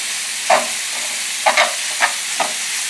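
Chorizo sausage fries in a pan for potato tacos while a spoon breaks it up, with several sharp scraping taps over a constant close sizzle and no voices.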